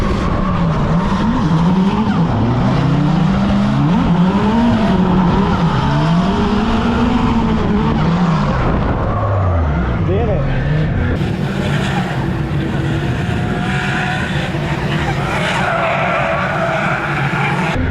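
Race car lapping a track on a first test with a new car, the engine note rising and falling through gears as tires skid and squeal, loud and close throughout.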